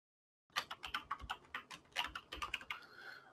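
Password being typed on a computer keyboard: a quick, uneven run of close crisp key clicks after a brief silence, with no voices.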